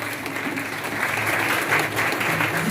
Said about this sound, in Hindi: ताली में कंजूसी मत कीजिए आप लोग।